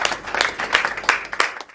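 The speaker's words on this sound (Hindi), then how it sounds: "आइए उसे बहुत जोरदार तालियों से आमंत्रित करते हैं।" Audience at a Hindi kavi sammelan applauding to welcome a poet onto the stage, a dense burst of many hands clapping with scattered louder claps, steady throughout and no voices over it.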